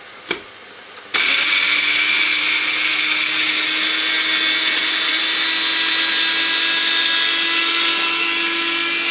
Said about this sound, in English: so I'm just going to blitz it up in my coffee grinder